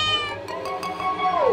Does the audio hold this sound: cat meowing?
yes